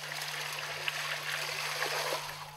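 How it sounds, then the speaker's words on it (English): Pond water poured from a pitcher into a filter gives a soft, faint trickling and gurgling over a steady low hum, continuous and close. "The women have to collect water from the pond, then pour it into the filter."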